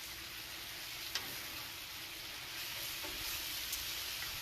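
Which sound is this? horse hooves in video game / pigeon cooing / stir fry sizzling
stir fry sizzling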